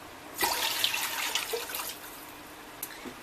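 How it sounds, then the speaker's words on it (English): Half a gallon of water being poured for homemade laundry soap, a steady splashing stream that starts abruptly and runs for a few seconds, close and fairly quiet, then tapers to a few drips. "So first we start out with a half a gallon of water."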